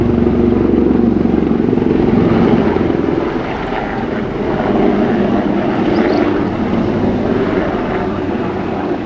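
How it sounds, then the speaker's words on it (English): Steady loud rotor and engine drone of a helicopter passing overhead, dipping slightly midway then holding on, with no voices. "today watching helicopters"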